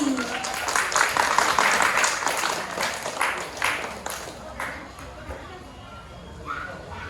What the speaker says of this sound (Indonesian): Beri tepuk tangan yang meriah untuk Kak Santi.